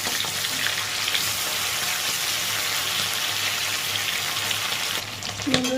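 Prawns frying lightly in a hot pan, a dense, even sizzle holding steady and loud throughout, close up, with a brief clatter near the end and no talking.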